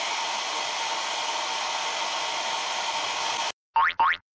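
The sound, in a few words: hairdryer blowing on a painted miniature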